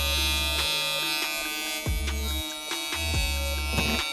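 A VGR V653 hair clipper runs with a steady close electric buzz, its motor tone shifting slightly as the blade engages, with no one talking.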